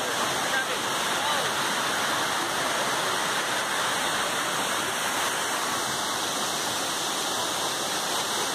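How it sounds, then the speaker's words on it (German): Millaa Millaa Falls near Cairns rushes in the rain with a steady, full roar of falling water that stays constant and close throughout. "So, wir sind jetzt hier am Wasserfall"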